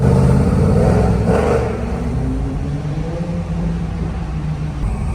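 A Chevrolet Camaro SS engine revs loudly nearby, a deep rumbling roar that swells and then settles into a steady idle drone.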